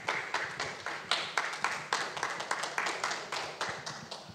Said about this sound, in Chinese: 那我们现在就掌声鼓励